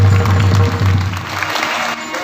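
Applause from the audience at a kirtan gathering held for a death-anniversary ceremony, a loud, dense burst of clapping that thins and fades after about a second and a half.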